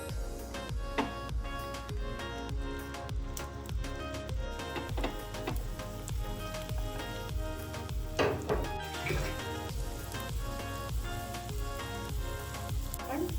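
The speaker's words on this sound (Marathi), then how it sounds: "जे गोळे आपण केलेले आहेत ते सगळ्या बाजूंनी खरपूस असे लालसर भाजून घ्यायचे किंवा आपण शॅलो फ्राय पण म्हणू शकतो" Fasting vada balls shallow-frying in a little ghee, a steady soft sizzle running throughout, with faint clinks of utensils and a rhythmic background beat.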